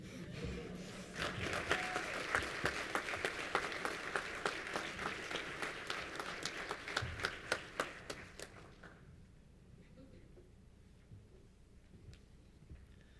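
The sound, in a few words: audience applause for the athletics hall of fame inductees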